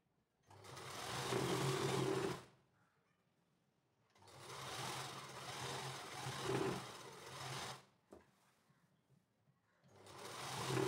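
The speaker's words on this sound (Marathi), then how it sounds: "मी डबल टिप टाकून घेते." A sewing machine stitches a nine-yard nauvari saree in three close, steady whirring runs separated by quiet pauses.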